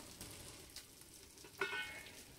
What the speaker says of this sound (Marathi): 2 मिनिटं छान परतू दे मासे आपले